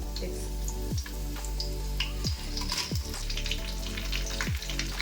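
Mustard seeds, cumin and garlic crackle and sizzle steadily in oil in a pan, with sharp popping bursts every second or so and a low hum underneath.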